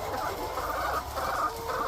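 Layer hens cluck softly and continuously inside an enclosed poultry house at night as they settle to sleep, a low, steady murmur of many birds close by.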